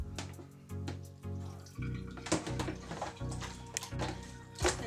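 Water drains and splashes off washed chicken pieces in a kitchen sink during Jamaican-style fried chicken prep, with irregular close trickles, drips and wet squishing bursts.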